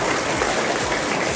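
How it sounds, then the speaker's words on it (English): A school assembly audience clapping for a third-grade student award winner, a brief burst of dense, even applause heard on its own. "Can we get another round of applause for the student?"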